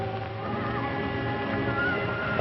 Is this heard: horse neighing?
yes